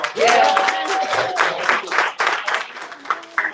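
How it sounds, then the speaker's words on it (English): An audience at a retreat event claps, a burst of applause rising near the start and continuing unevenly with scattered claps and a few voices mixed in. "Let's clap it up for them"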